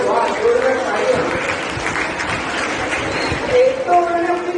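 Loud, sustained applause from an audience at a career counselling program on a school campus, with cheering voices mixed into the dense clapping.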